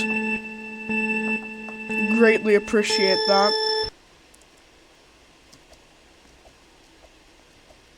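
An iPad sounds steady, overlapping electronic notification tones for about four seconds while a person talks over them, then everything drops to near silence.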